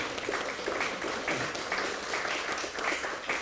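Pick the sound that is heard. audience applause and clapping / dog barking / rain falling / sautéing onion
audience applause and clapping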